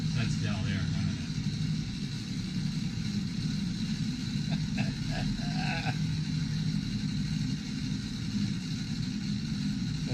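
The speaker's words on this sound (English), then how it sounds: "So in the back, it's making 15 gallons of margaritas. It's all filled with ice and margarita mix. and it's spinning the blades." An engine-driven blender spins its blades through fifteen gallons of ice and margarita mix, a continuous low mechanical rumble with intermittent clatter, heard under people talking.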